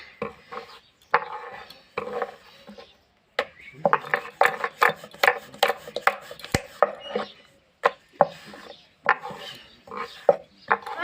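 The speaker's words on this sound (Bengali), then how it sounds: "এবার আমি কেটে নেব এভাবে করে, 4 কোনা করে কাটবো।" Knife chopping a flat red-and-white pitha dough into four-cornered pieces on a board, a series of sharp close taps and cuts in irregular rhythm, with no talk.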